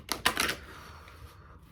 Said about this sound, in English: I'm going to pull some of these goddess cards